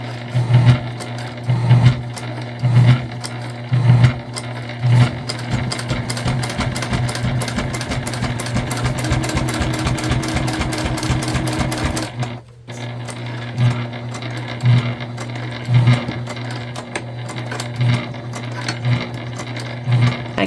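A Juki sewing machine back-stitches a bag lining, starting with short forward-and-reverse runs, then a long steady whirring run, a brief stop, and more short bursts, loud and close.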